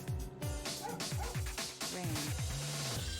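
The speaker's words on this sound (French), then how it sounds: "Qu'est-ce qu'un chien fait ici?" Several sharp, rapid dog barks and yips from a video game, Astlibra, in quick succession with pitch-sliding whimpers, loud and close over game background sound.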